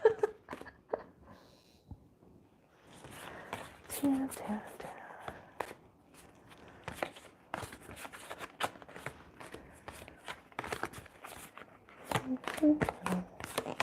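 Tarot cards are shuffled in quick, crisp bursts of riffling and flicking, close by and fairly quiet, repeated over several seconds with soft talk in between.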